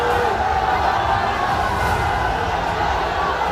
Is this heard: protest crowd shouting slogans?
yes